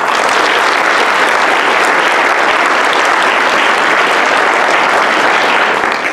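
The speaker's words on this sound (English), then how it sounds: "let's give him a round of applause" Audience at a youth leadership graduation ceremony gives a round of applause, loud dense clapping sustained evenly for several seconds without talk.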